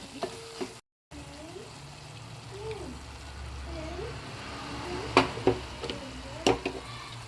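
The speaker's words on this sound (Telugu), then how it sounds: "వంకాయలు మనకి ఫ్రై అయినాయేమో చూద్దాం ఫ్రై అయిపోయింది" Eggplant pieces fry in a pan for a prawn and eggplant curry, giving a steady close sizzle with a few sharp utensil clinks, and a faint voice is heard at times.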